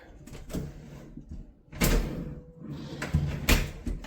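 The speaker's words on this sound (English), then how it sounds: "Drawer." A built-in closet organizer drawer in a ranch house bedroom slides and knocks several times, giving short wooden bumps and sliding rubs at varying loudness, close by and without speech.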